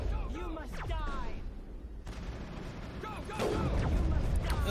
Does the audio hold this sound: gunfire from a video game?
yes